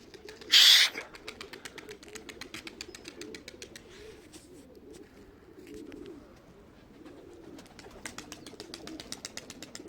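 Soft low cooing from young birds repeats through the scene, along with rapid ticking clicks and a brief bright burst near the start.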